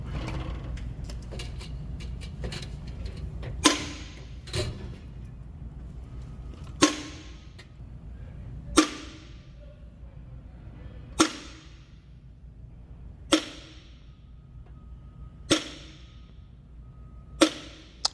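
Sharp metallic hammer blows drive a wheel seal into a Volvo semi truck's front hub at irregular intervals, about seven distinct hits ringing briefly, with faint tapping and background hum between them.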